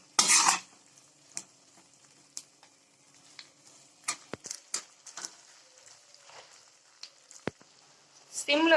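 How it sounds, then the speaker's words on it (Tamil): A spoon stirs garlic pickle in a pan over low heat, making intermittent scrapes and clinks against the metal, with a louder rattle at the start and end and quiet pauses between strokes. "சிம்ல வச்சு 5 நிமிஷம் இதை நல்லா மிக்ஸ் பண்ணிக்கோங்க."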